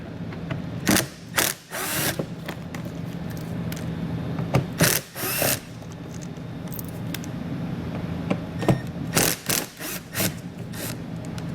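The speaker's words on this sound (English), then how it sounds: "there's going to be 4 T15 Torx bit screws. We'll go ahead and get all these removed." T15 Torx screws being backed out along the rear edge of a 2020 Chevrolet Traverse wheel well liner, with several short bursts of a power driver whirring between quieter clicks and handling noises.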